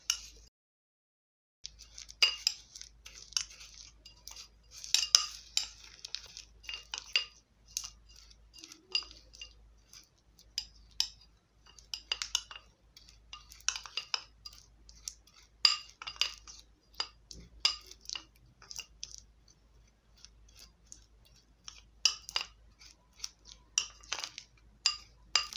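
A spoon stirring coffee scrub in a bowl, giving irregular bursts of light clinks and scraping taps against the dish, close and fairly quiet, with brief pauses between stirring spells.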